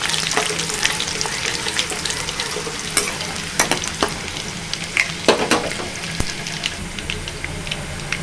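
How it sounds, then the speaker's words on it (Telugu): Crushed onions sizzle and crackle loudly in hot oil in a pan for a leafy greens curry, with sharp spatters and occasional stirring scrapes up close, no voices. "ఇప్పుడు ఎల్లిపాయలు వేసుకుంటున్నానండి. కొంచెం దంచి వేసుకోవాలండి ఉల్లిపాయ."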